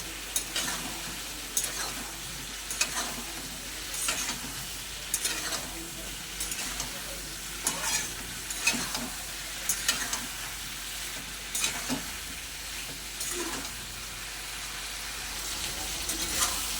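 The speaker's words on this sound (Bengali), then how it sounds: "বেগুনগুলো দিয়ে আলুর সঙ্গে ভালো করে কষে নেবো" Potatoes and eggplant fry in oil while being stirred in a pan for a rohu fish curry, a steady soft sizzle broken by repeated scraping strokes of a spatula, close but fairly quiet.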